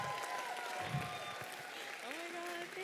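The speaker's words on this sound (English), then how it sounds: "Let's give another round of applause for Kayla Moreno and Angelica Nicolas." Audience applause at a Filipino cultural night stage show, steady clapping filling the room with speech-like voices mixed in underneath.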